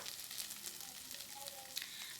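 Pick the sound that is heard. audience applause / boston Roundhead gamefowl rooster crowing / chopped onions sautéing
chopped onions sautéing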